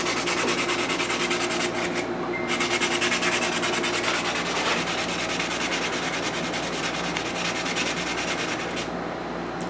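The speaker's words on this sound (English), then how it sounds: "I'm going to sharpen this just by doing a little sanding." Rapid, even back-and-forth scratching of sandpaper against a wooden pencil to sharpen it, close and continuous, with a brief pause partway through.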